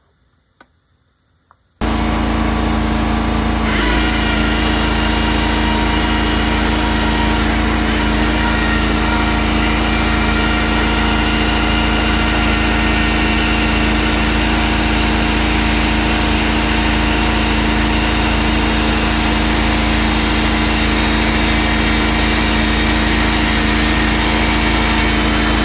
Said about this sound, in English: diamond chainsaw.